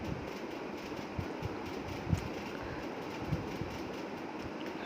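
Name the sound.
train arriving at a crowded station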